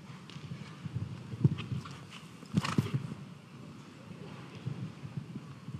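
Hoofbeats from a show jumping horse moving at pace at the London International Horse Show, faint and steady, with a couple of sharper thuds under wind rumble and distant ambient noise.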